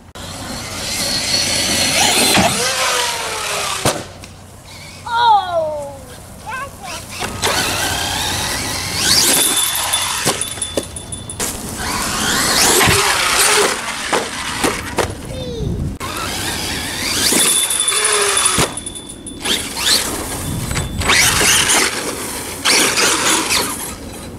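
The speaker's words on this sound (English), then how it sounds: "so I can run this truck on 4S, and it's pretty freaking fast" A Traxxas Maxx RC truck on 4S batteries runs fast, its electric motor whining and rising in pitch in bursts, with tires squealing and rattling thumps, close and loud over about 24 seconds while voices talk intermittently.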